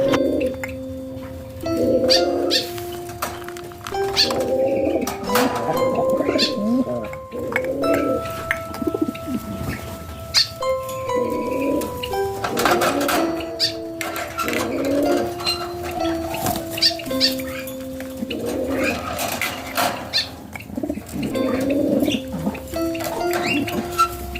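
Punai green pigeons coo in repeated soft, hollow phrases, close and clear, with short pauses between calls and faint rustling in the background.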